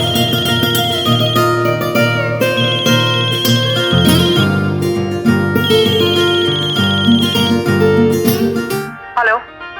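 A loud electronic phone ringtone plays a repeating melodic pattern for several seconds, then cuts off with a brief rustle and voice.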